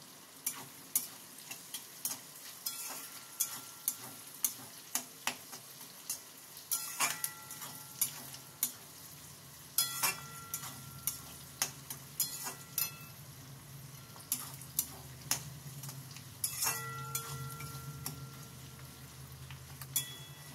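Ingredients for chili chicken fry lightly in a pan to a soft, continuous sizzle, broken by frequent sharp clicks and scrapes of a utensil stirring against the metal, all close up and without speech.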